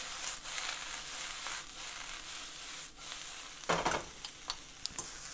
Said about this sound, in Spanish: Mientras sigo cocinando nuestros vegetales.